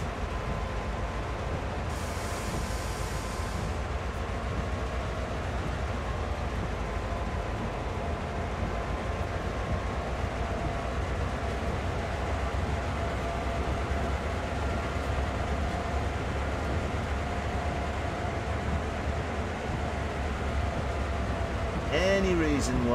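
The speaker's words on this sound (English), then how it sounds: "Another train waiting to pull out of the yard." A CSX heavy haul freight train in Train Sim World rumbles steadily at a yard with a continuous low drone and engine hum, a brief hiss early on and a squealing tone near the end, while someone talks over it.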